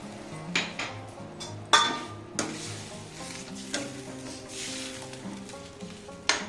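Cooked mutton being scraped from a pan into a pressure cooker with water added: a series of distinct metal clanks and scrapes against cookware, spaced irregularly, over a faint sizzle.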